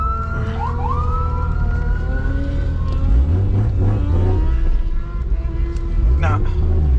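A 2JZ-GTE engine fitted with Audi R8 coil packs revs toward high RPM, its loud, continuous drone climbing in pitch in repeated sweeps over a steady, heavy low rumble.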